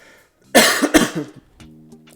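A single sharp cough, then a second harsher one, close and loud, followed by faint low voiced sounds.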